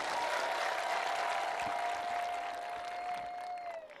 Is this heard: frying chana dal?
no